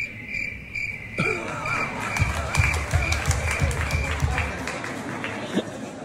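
An audience clapping together to vote during a Danish stage show, a scattered then fuller round of applause, moderately loud, with a high steady tone fading early on and voices mixed in.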